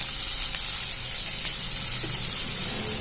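Chopped tomato and onion softening in hot oil in a pan for a spicy potato curry, giving a steady, even sizzle with light stirring scrapes, close and alone.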